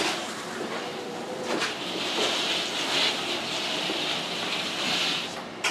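A Jazzy 1450 power chair drives across a whiteboard surface with a steady, close whirring hiss and rolling rumble that swells slightly and continues without pause.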